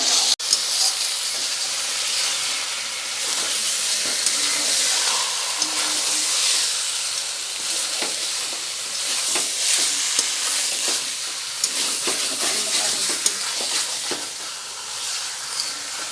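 Mutton frying in a pan with spice paste for kosha, a loud, steady hissing sizzle that carries on for the whole span with scattered crackles and pops, close by and with no talk.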